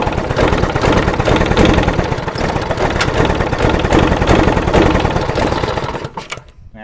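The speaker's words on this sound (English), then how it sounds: "That's low idle. And it's running." A small engine runs steadily at low idle for several seconds with a dense, even pulsing rumble, close and loud, then cuts off abruptly near the end.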